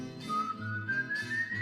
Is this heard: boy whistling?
yes